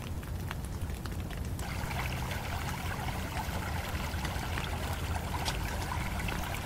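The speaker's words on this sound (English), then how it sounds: "you could hear the raindrops falling" Rain falling steadily by a partly icy river below Carsland Weir in December, a constant wet patter and trickle of drops on water, evenly loud and close throughout with no voices.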